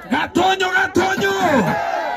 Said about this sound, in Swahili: Ai wapi shangwe na vigelegele kwa Yesu.